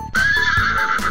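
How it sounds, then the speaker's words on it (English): A toy horse from Toy Story gives a bright, loud neigh that rises and wavers for about a second, close and alone. "even Woody's horse Bullseye is here"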